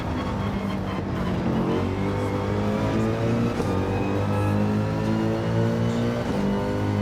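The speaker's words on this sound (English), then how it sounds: "Toyota Supra up there is going to be good and solid on this straightaway." Toyota Supra race car in the Gran Turismo 7 racing game, engine holding a steady loud high-rev drone down a straightaway, with a slight pitch dip and recovery, continuous and close throughout.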